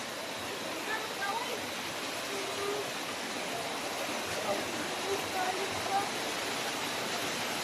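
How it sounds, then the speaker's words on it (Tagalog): Floodwater rushing steadily past a house, a continuous broadband roar with no breaks, moderately loud and even throughout, with faint voices underneath. "Grabe nga baha."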